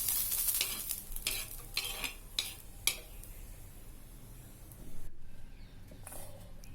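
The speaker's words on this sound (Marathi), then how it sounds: "हिरव्या मिरच्या पण आपल्याला चांगल्या भाजून घ्यायच्या आहे" Green chillies roast and are stirred in a pan, with a soft sizzle under scraping and clinking strokes of a spoon against the pan, fairly quiet and close, with no talking.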